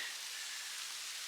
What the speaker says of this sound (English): It's raining heavy.